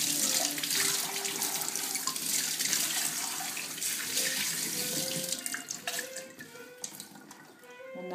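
Tap water runs continuously as Omega 8006 juicer parts are rinsed, a steady bright splashing with occasional clunks of plastic pieces being handled under the stream.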